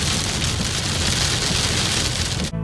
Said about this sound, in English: now it's starting to rain and get yucky